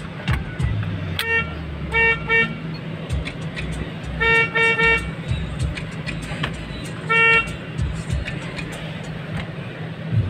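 Toyota Prius car horn honking in short bursts, some doubled, over steady nearby engine and traffic noise.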